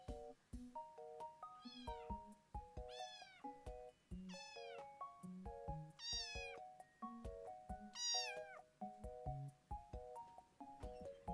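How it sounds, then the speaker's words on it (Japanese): A cat meows repeatedly in short rising-falling cries over steady musical tones, several calls evenly spaced through the clip. "猫ちゃん買いました。"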